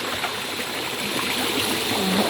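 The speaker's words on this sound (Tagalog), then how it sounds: "Narinig niyo yung tubig." Mountain stream water rushing steadily at a resort, a continuous broadband flow close by with no talking.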